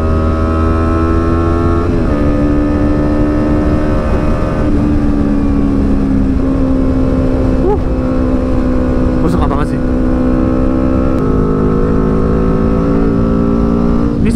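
A Yamaha R25 cafe racer motorcycle engine with an aftermarket exhaust drones steadily and loudly throughout, its pitch shifting as the rider changes gears while cruising along.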